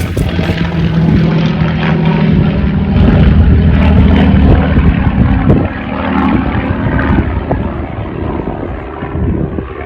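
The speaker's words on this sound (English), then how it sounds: "one of the mechanics took this nice film with me flying the Spit over Goodwood" A Spitfire roars over Goodwood Aerodrome, its loud propeller-engine drone building to a peak as it passes overhead, then easing slightly as it moves away.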